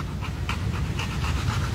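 A dog pants steadily and close, a fast continuous rhythm of breaths running through the whole short stretch with no voices.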